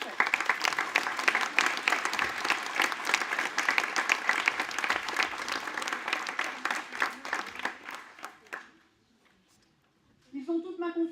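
A crowd at a municipal New Year's greetings ceremony in Boutigny-sur-Essonne applauds the technical services staff with sustained, dense clapping for about eight seconds, then it stops abruptly and a voice begins speaking.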